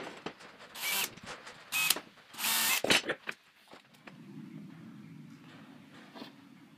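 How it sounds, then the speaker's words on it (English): A power drill boring holes through an 18 mm board, several short high-pitched whining bursts with pauses between, then a faint low steady hum. "Now we have our holes drilled."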